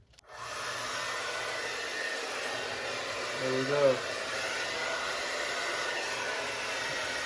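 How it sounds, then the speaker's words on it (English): Blow dryer running continuously to heat a plastic Jet Sled Jr ice fishing sled, a steady loud whooshing hum after switching on, with someone briefly speaking over it. "I'm gonna take this blow dryer now."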